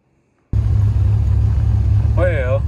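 A C3 Corvette with a swapped-in LT1 engine starts up on a test drive after a short silence, settling into a deep steady rumble, with a brief voice heard over it near the end.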